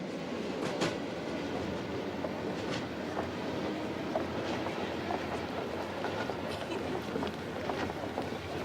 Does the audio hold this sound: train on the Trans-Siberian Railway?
yes